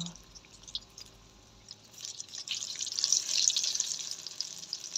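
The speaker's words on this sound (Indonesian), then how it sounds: "Kita panaskan dulu minyak lalu goreng sampai kecoklatan." Karipap pastries deep-frying in plenty of hot oil over medium heat, a steady bubbling crackle and hiss that swells louder midway and stays close, with no talking.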